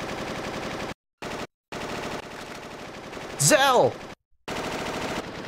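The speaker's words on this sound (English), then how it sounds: "What was that? Gunfire." Gunfire in the Final Fantasy VIII Remastered video game, loud bursts of rapid shots broken by short silent gaps, with a voice briefly shouting over the din.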